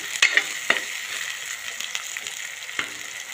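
Steady frying sizzle with a few scraping clicks of a spoon stirring turmeric into a mash in a pan, close by, no talking.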